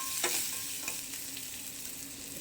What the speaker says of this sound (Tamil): சின்ன வெங்காயம் கடைசியாக இப்படி தாளிச்சு வதக்கும் போது